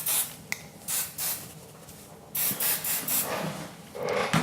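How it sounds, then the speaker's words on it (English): Hair spray misted onto loose beach-wave curls in several short hissing bursts of varying length, close and fairly loud, separated by brief pauses. "you can just give it another extra little spray."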